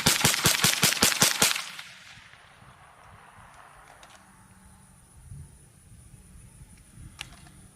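A Smith & Wesson FPC folding 9mm pistol carbine fires eight rapid, evenly spaced shots at an outdoor range. The sharp, loud reports stop abruptly, followed by quiet ambience and faint distant shots.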